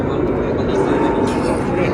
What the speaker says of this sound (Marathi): प्लेन बघतोय